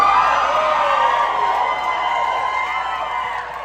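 Concert crowd at the Aladdin Theater cheering and whooping, a dense sustained roar of voices and woos that stays loud throughout, then eases slightly at the end.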